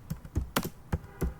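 Keys clack on a computer keyboard while typing into a business software search bar, four or five distinct quick strokes in an uneven rhythm, close and fairly quiet, with no talk.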